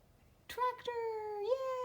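A single drawn-out cat meow, close and clear, rising slightly at the end after a brief chirp, with quiet background.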